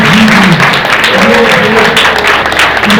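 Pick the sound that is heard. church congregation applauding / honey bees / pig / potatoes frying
church congregation applauding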